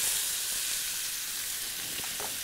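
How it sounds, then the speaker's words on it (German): Food frying in olive oil gives a steady, dense sizzle that fills the whole stretch, close and continuous, with a few brief crackles near the end and no talking. "wie das brutzelt"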